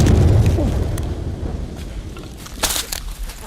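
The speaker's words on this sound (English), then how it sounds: "The explosion you just heard was from soldiers using explosives to destroy an excavator in the forest" Soldiers blow up an excavator with explosives at an illegal mining site in a forest, a heavy low rumbling blast that fades into crackling debris and rustling.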